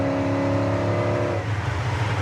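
A 1957 Chevy truck engine roars loudly as it accelerates, a steady droning tone that rises and then shifts as the revs climb, heard from inside the cab.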